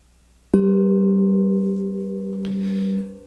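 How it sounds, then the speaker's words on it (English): A single loud metallic gong strike rings out with a long, humming sustain, followed by a second softer hit that blends into the lingering tone. "there's a lot of gongs on that album, and it sounds like this"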